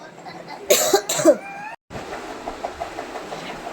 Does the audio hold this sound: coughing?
yes